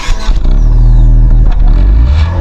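An MG SUV engine catches and runs, a loud close low rumble with a brief rev and some clatter, holding steady for a couple of seconds with no talk.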